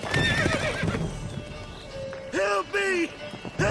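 Roach the horse gallops in The Witcher 3 with rapid clip-clop hoofbeats, followed by a couple of loud, close neighs. Voices talk over the start of the hoofbeats.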